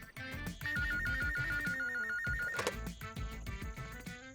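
A landline telephone rings loudly in repeated bursts for several seconds, layered over a busy comedic film soundtrack with percussive music and effects.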